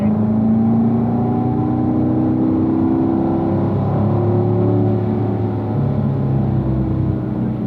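A race car engine on a track drones steadily with rising harmonic tones, its pitch shifting as the driver drops down through the gears, loud and close with no pause.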